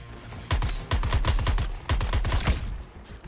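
Rapid bursts of gunfire in Suicide Squad: Kill the Justice League on PlayStation 5 rattle off in quick, repeated volleys, loud and close, with brief gaps between strings of shots.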